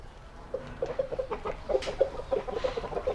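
A white rooster clucks in quick, repeated low calls, close by, with a short louder squawk in the middle.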